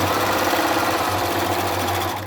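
Straight stitching on a sewing machine sewing a washable fabric face mask, a close continuous motor whir with steady rapid needle chatter for the whole stretch, alone and without talk.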